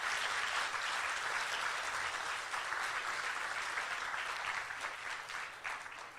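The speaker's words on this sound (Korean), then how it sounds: "박수 부탁드리겠습니다." Audience applause at a small outdoor concert marking a two-thousand-ri memorial walk, sustained broad clapping that gradually thins toward the end.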